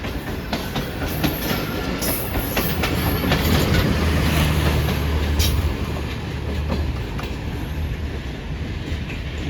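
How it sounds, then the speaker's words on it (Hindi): The 16 Down Karachi Express passes Mali railway station near Karachi at speed, a steady loud rumble of wheels with rhythmic clickety-clack over the rails and occasional brief metallic squeals, continuous throughout. "ये थी आज की हमारी 16 डाउन कराची एक्सप्रेस।"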